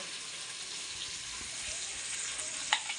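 Ginger garlic paste sizzling in a pan for veg pulao, a soft steady frying hiss, faint and even, with a small clink near the end.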